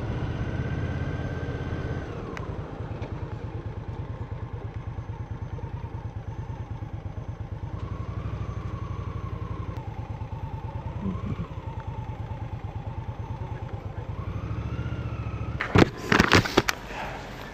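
At a bike night after dark, a motorcycle engine rumbles steadily nearby, rising and falling in pitch as it revs, and closes with a brief clatter of knocks.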